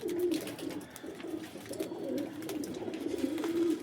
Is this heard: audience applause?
no